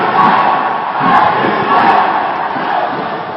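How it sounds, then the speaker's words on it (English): Spectators at a women's dodgeball world championship match between Australia and USA in Cancun cheer and shout for their teams in a gym, a steady, dense crowd roar that swells and dips without pause. "We definitely have fans in the gym from both sides cheering on their squad."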